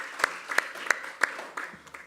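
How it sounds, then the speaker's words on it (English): A short burst of applause at a stakeholder roadshow presentation: a handful of sharp claps spaced out, thin and a bit distant, fading toward the end. "I think that deserves a round of applause."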